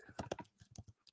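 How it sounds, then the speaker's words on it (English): Two people rap quickly on computer keyboards, a short flurry of soft, close key clicks in uneven bursts, with no talking over it. "you can hear both of us start rapping on our keyboards"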